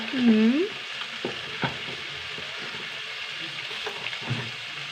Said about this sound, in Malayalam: കുറച്ചിട്ട് കൊടുക്കട്ടെ ചെറുതായിട്ട് വഴച്ചെടുക്കണം